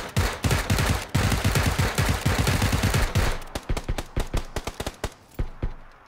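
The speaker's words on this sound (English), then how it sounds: "Oh, I'm getting shot at." Video game gunfire, a dense rapid automatic burst that gives way to spaced single and double shots, loud and continuous with no talk over it.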